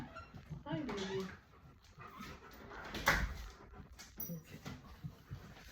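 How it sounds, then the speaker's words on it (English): A pet dog whimpers and whines as she is let indoors out of light rain, with faint shuffling and a door nearby. Someone talks softly over the sounds. "I'm going to let my dog in because it's raining a little and she wants to come in"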